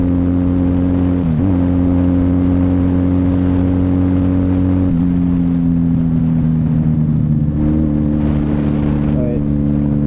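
A Kawasaki KZ440 motorcycle out on a ride, its engine holding a steady droning hum with pitch shifts as it changes speed, close and continuous for the whole stretch.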